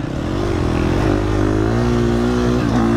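A motorcycle engine revs loudly and steadily up close during the Enduro du Touquet beach race, its pitch rising and dipping slightly throughout.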